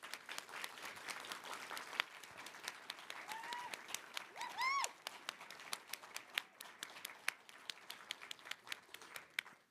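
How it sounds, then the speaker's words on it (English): Graduating students receive applause from the audience at a winter graduation ceremony: sparse, uneven clapping from a modest crowd of parents, with a few whoops and a brief cheer near the middle, at moderate volume. "So let's have a nice round of applause for the students."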